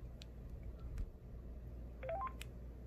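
Keypad tones from a Sprint Sanyo Katana DLX flip phone, a short run of rising electronic beeps as keys are pressed in quick succession, clear over a quiet room hum with no talking.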